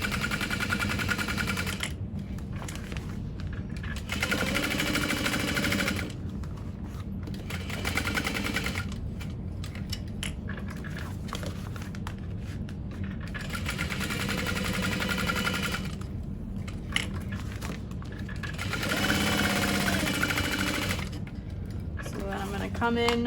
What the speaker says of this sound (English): I'm going to top stitch along here